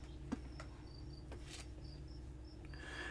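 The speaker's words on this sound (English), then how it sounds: "them crickets are already coming out. I hear them. They're out there chirping and everything." Crickets chirp outdoors in short, faint, high-pitched bursts spaced irregularly over a steady low background hum, with no talking.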